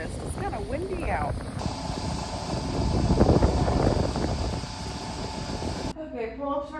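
Wind blows outdoors on a harvest day, a steady broad rushing that swells in the middle, with a person talking over it near the start and end.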